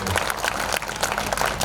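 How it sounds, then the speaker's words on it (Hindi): An audience at a Hindi poetry recital breaks into applause, a brief burst of dense, fairly close clapping with no one speaking. "एक बार पूरा सदन मेरे को अपनी तालियों से आशीर्वाद दे।"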